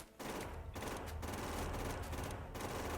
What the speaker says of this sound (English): Shoot the rock too.